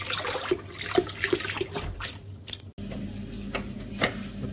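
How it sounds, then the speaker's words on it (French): Water runs from a household tap while a Chaffoteaux & Maury Nexia boiler is checked for lack of hot water, a steady close rush with a few clunks and a brief break partway through. "En tirant de l'eau."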